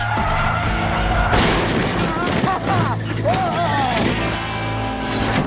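Cars race on a track, one ramming another's rear tyre: loud, close engine roar with screeching tire squeals and a sharp impact crunch partway through.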